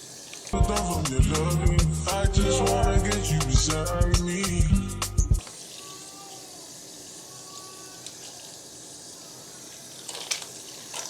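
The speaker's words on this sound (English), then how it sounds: "I'm going to go ahead and rinse this off." A wig is rinsed under a running tap, loud gushing and splashing water for about five seconds, then the flow stops, leaving quiet room tone with faint handling sounds.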